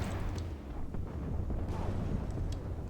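Tank cannon fire from a Scorpion light tank in the Armored Warfare video game, a dull, rumbling low boom spread through a dense battle din with scattered crackling bursts.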